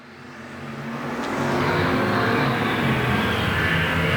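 Race cars roar around Golden Triangle Raceway on the white flag lap of a Spring Havoc race, a dense steady engine drone that swells louder over the first seconds and then holds.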